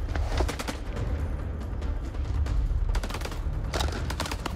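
Rapid gunfire from the video game House of Ashes: bursts of shots crackling over a steady low rumble, with a dense cluster near the start and another flurry toward the end, loud and continuous throughout.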